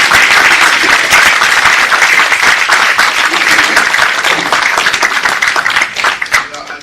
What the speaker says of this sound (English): Please give this panel a round of applause.